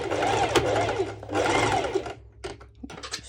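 A sewing machine stitches swim skort fabric with a very small stitch length, whirring in two close, steady bursts, then pausing for a few short stops and restarts.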